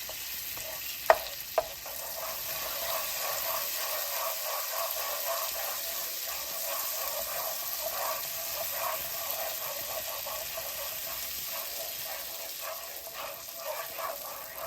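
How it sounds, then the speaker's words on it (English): Butter melts in a pan while making caramel popcorn, giving a steady, soft sizzle with faint crackles throughout and a couple of brief sharp clicks near the start. "So just melt the butter in like this."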